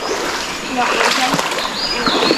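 River water splashing and sloshing along a tree-lined stream, a steady broadband wash close by, with a person talking over it.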